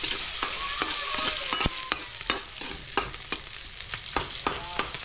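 Ingredients being sautéed in a pan for a mud crab dish: a steady sizzle of frying with repeated sharp scrapes and knocks of a utensil stirring, close and fairly loud, with no talking.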